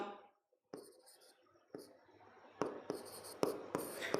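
Pen writing on paper, close and quiet, with scratchy strokes and taps in irregular bursts that grow denser toward the end, with no clear talking.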